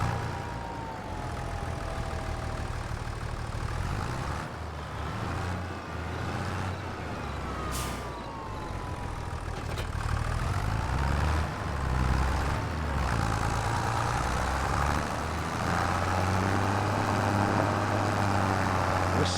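A tractor engine idles in Farming Simulator 25, a steady low rumble with faint hissing and beeping noises on top, heard alone without talk for the whole stretch.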